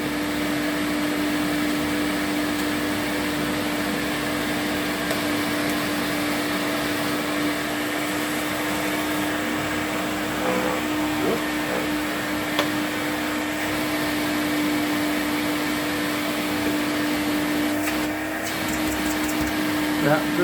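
An Electrolux Z560 vacuum cleaner from 1984 runs steadily with a tool attached, a loud continuous motor drone with a fixed hum and airy suction hiss that barely changes, close by and unbroken throughout.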